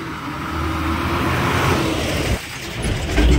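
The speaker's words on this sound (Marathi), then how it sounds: "इकडे आली आहे 6:30ची गाडी" A vehicle engine rumbles and grows louder as it approaches along the road, a steady motor drone with a brief dip before swelling again.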